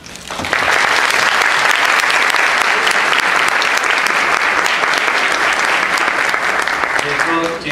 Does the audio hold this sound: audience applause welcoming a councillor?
yes